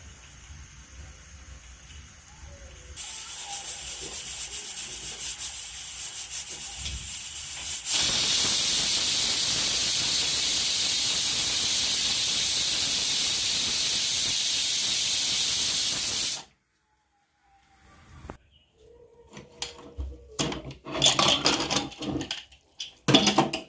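A pressure cooker boiling mutton for a curry lets out a loud, steady steam hiss lasting several seconds, preceded by quieter kitchen background and followed by silence and scattered clatter.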